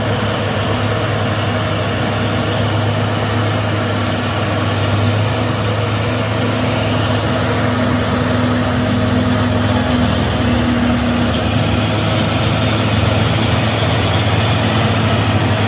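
A Hino truck grinds up a steep hill at Bukit Kodok, its heavy diesel engine droning steadily and loudly at low pitch with a rough hum that stays even throughout, with no voices.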